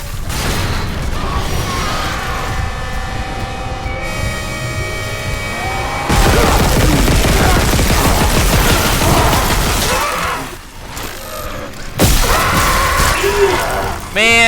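Gunfire and impacts from the sci-fi horror video game Dead Space, with loud shots, booms and clanking mechanisms packed into a dense, chaotic battle stretch, breaking off briefly before further bursts near the end.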